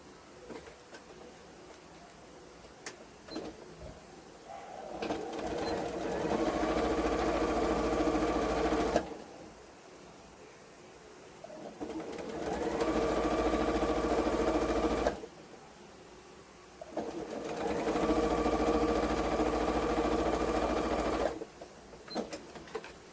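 A sewing machine stitches two pieces of fabric for a cloth doll together, running in two steady whirring bursts of several seconds each, separated by quiet pauses, close and clear with no talking.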